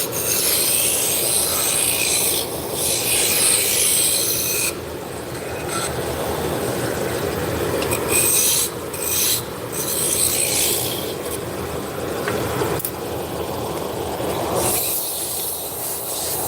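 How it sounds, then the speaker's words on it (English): A spindle gouge cuts a wooden spindle turning on a lathe, a sustained rough scraping drone with several brief drop-outs as the tool lifts and re-engages, close and fairly loud. "Now we're going to switch from the roughing gouge to a spindle gouge."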